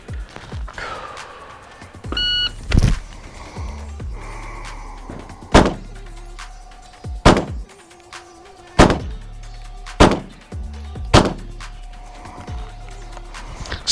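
Pistol shots fired at a B8 target during a timed defensive shooting drill, about eight sharp loud cracks at irregular intervals with quieter handling noise between.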